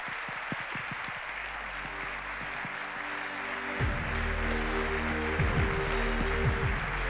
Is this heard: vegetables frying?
no